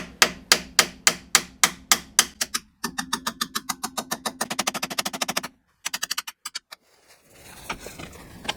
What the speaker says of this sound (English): I'm gonna use a soft copper hammer.